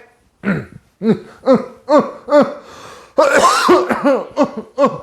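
A child-directed storyteller's voice coughs in a quick rhythmic series of short, hoarse bursts, close and loud, with one longer rough spell partway through.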